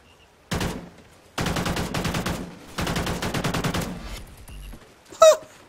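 A death machine minigun in Call of Duty Ghosts fires in three long, rapid sustained bursts, loud and close, separated by short silences, ending with a sharp brief burst.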